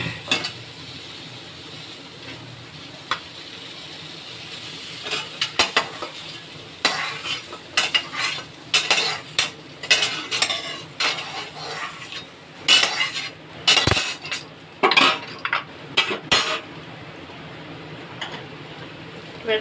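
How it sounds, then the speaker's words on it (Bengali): Cauliflower pieces fried with salt and turmeric are stirred and lifted out of a pan. A spatula scrapes and clinks repeatedly against the metal over a soft background sizzle, with frequent loud clatters in the second half. "ফুলকপিগুলো ভাজা হয়ে গেছে, এবার তুলে দেব।"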